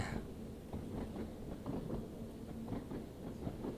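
A Class 483 electric train in Train Sim World 3 runs up a steep grade on the Island Line, a steady rumbling roll with faint rhythmic clicks of wheels over rail joints, continuous and moderately loud.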